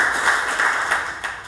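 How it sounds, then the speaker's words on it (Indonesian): A church congregation claps together in steady, close applause for a brief moment with no talk. "Kasih tepuk tangan untuk Tuhan"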